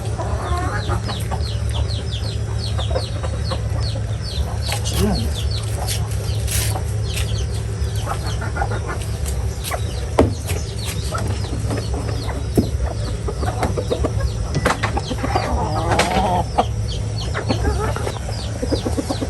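Many pet chickens being fed cluck continuously, loud and close, over a constant low hum, with occasional sharper squawks standing out from the flock.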